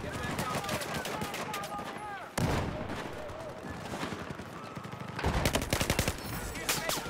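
Distant gunfire crackles continuously across a Battlefield 4 multiplayer battlefield, with repeated rapid automatic bursts and sharp whip-like shots, growing denser toward the end.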